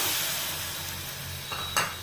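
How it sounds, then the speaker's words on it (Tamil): Tamarind water hits a hot pan of frying onions for a yam masiyal, giving a soft, steady sizzle and hiss close up, with a short sharper spatter near the end. "ஒரு நெல்லிக்காய் அளவு புளியை வந்து தண்ணியில் ஊற வச்சு கரைச்சி வச்சுருக்கேன். அதை ஊற்றிடலாம்."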